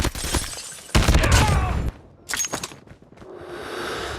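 Gunfire in the mobile shooter game Call of Duty Mobile: a burst of rapid shots, then a pause and a shorter second volley, loud and close, with a whooshing tail.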